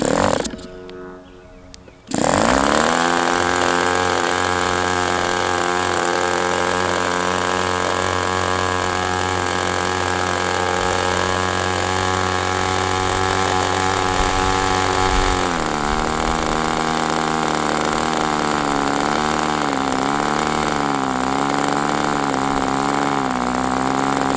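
A Sport 40 model engine runs during break-in with a loud, continuous high-pitched buzzing drone after a short quieter start, its pitch shifting and wavering partway through.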